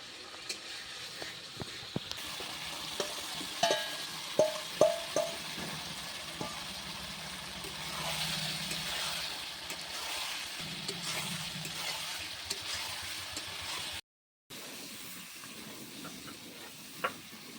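Fried potatoes go into a cooked spice masala with yogurt, and the pan sizzles steadily under repeated scraping and stirring knocks, with a brief dropout near the end.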